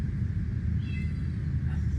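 A cat meows once, faint and in the background of an outdoor homestead cat enclosure, under a steady low rumble of ambient noise.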